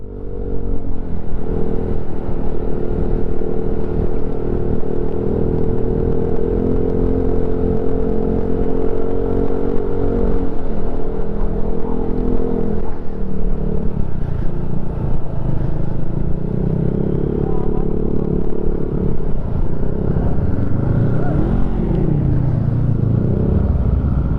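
Motorcycles passing along a road in Tagaytay, a loud, steady hum of engines heard from within traffic, with rising and falling revs as machines go by and no clear speech.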